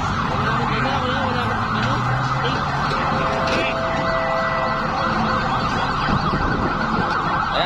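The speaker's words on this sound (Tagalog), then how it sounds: "Maingay, may dumaan na ambulansya." An ambulance siren wails steadily as it passes along a road, loud and continuous, mixed with passing traffic.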